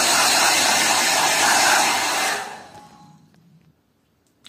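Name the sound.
hair dryer blowing to remove fog from windows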